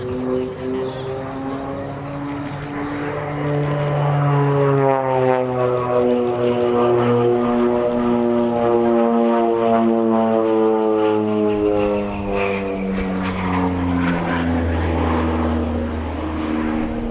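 A North American OV-10 Bronco turboprop passes overhead at an airshow, its loud propeller drone rising and then falling in pitch as it sweeps by. A public-address announcer speaks underneath.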